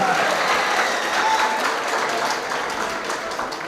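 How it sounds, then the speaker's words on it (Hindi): An audience at a live ghazal performance breaks into full, dense applause that carries steadily from start to finish and tapers off slightly toward the end. "तालियां बजाकर थोड़ी सी गर्मी के साथ"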